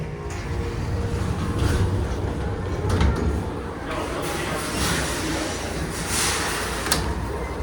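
An IKEA MEI hydraulic entrance elevator door slides shut with a steady mechanical rumble and a few soft clunks, heard close by in a store lobby with a steady hum of background noise throughout.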